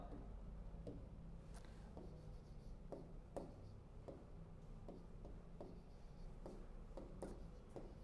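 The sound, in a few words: writing on a board during a lecture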